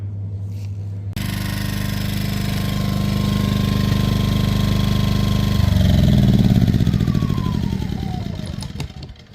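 A petrol inverter generator powering a home boiler kicks in after a second of quiet and drones loudly and steadily. Its engine note shifts partway through, then the sound fades toward the end.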